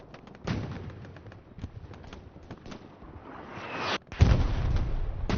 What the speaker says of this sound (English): Artillery dropping in.